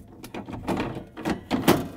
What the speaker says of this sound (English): I'm going to install the drawers.